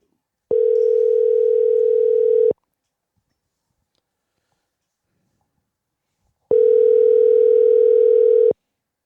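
A telephone ringback tone sounds while a call is being placed: two loud, steady two-second tones separated by about four seconds of silence.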